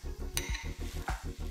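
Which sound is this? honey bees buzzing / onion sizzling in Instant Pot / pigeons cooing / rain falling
onion sizzling in Instant Pot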